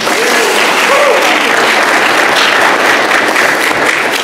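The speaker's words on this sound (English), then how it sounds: "So we should give KT a round of applause." A conference audience applauds a moderator at a political panel, the clapping dense, loud and steady throughout, with faint voices underneath.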